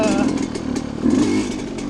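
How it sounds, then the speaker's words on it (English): A dirt bike engine runs steadily close by, a buzzing drone that swells and eases slightly through the short stretch with no talk over it. "One of them is dirt bikes."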